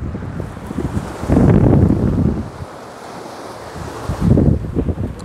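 Ocean surf breaking on a beach beside coastal dunes, loud and close, with two heavy wave crashes swelling and fading between lighter washing water and gusty wind buffeting the microphone.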